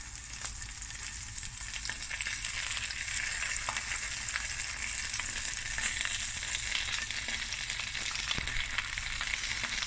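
Prawns frying in a pan while Sriracha sauce is brushed on: a steady, dense hot-oil sizzle runs continuously for ten seconds without any talk.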